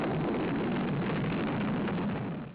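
A nuclear explosion from Lyndon B. Johnson's daisy campaign ad is a continuous, muffled, broadband roar that holds steady and then fades at the end, with no voices.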